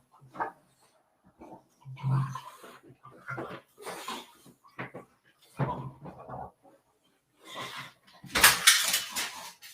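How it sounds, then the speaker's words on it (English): Dogs start getting rowdy indoors, with scuffling and a loud burst of barking near the end after quieter stretches where someone talks. "these dogs are gonna get rowdy now"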